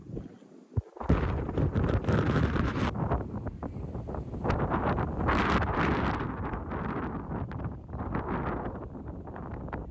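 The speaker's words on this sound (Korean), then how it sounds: "바람 불어." Strong wind gusts buffet the microphone outdoors on a trip in Jeju, a loud rough rumbling roar that swells and eases continuously, close and alone.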